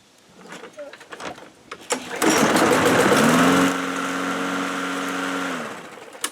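A Craftsman lawn mower engine is pull-started with a few rattling tugs, catches and roars loudly up close, then settles into a steady buzzing idle before cutting off, with someone speaking over it.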